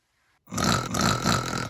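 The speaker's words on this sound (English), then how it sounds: "my sister starts snoring" Snoring from a person lying in bed in a shared room: after a brief silence, loud, close, rough breathing noise begins and continues steadily, swelling in two or three pulses with no speech.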